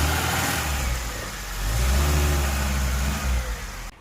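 An old Lada car's engine revs hard as it is eased forward while stuck, with a loud mid-pitched roar that rises and falls, dips, then swells again before cutting off.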